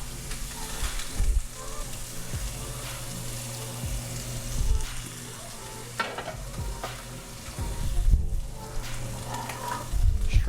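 Corn being fried in a pan during a timed cooking challenge, with steady sizzling and frequent stirring scrapes at close range, no talking.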